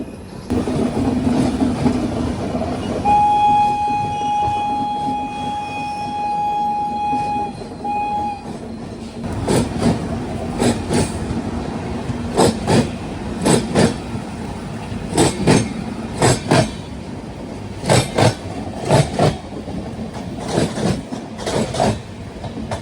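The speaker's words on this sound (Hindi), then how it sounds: "यहाँ फ़िलहाल क्रॉसिंग हो रही है जामनगर तिरुनेलवेली एक्सप्रेस की" Jamnagar Tirunelveli Express passing a halted train at a crossing near Shoranur station, with a steady rumble of rolling coaches, a sustained horn blast early on, then a loud rhythmic clatter of wheels over rail joints.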